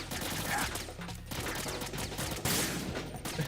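Gunfire in Metal Gear Solid, a dense clatter of shots over busy game music and effects, moderately loud with a sharp burst near the end.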